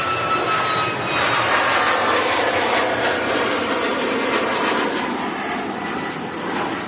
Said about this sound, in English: Ryanair, Max, just about to leave us at Manchester here.